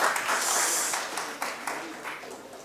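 A short burst of audience applause at a hospital talk in Jalandhar, many hands clapping at once, loud at first and then thinning and fading away.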